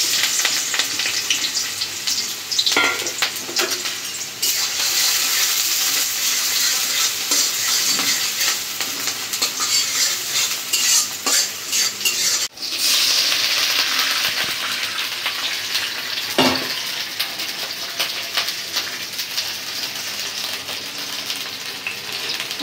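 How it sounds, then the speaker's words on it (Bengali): Onion and green chilli sizzle steadily in hot oil in a wok, a loud continuous frying hiss with occasional stirring scrapes, close and with no talk. "কড়াইতে তেল দিয়ে দিছি, এখন পেঁয়াজ দিয়ে দিব আর কাঁচামরিচ"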